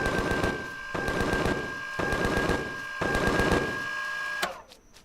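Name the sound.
gunfire in the video game Empyrion Galactic Survival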